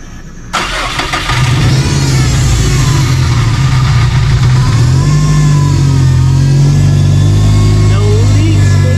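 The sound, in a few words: Subaru Forester STI engine cold start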